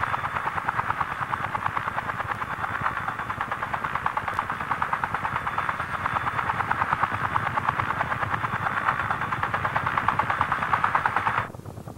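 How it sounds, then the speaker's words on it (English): Huey and Cobra attack helicopters laying down suppressive fire during a troop landing: a loud, continuous, rapid rotor-and-gunfire pulse that holds steady for several seconds, then cuts off abruptly near the end. "the Huey continues to lay round after round of suppressive fire"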